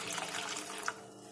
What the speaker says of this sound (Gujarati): તેની અંદર આપણે પાણી લઈશું